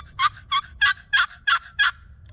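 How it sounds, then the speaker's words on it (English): Six evenly spaced turkey yelps from a box call, sharp and raspy, repeating at a steady rhythm over a low background hum. "dragging it across like this, that's good enough to call on a turkey"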